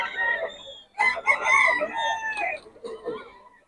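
A rooster crows loudly nearby at a market in Bocaue, followed by a few clucks from chickens from Pangasinan.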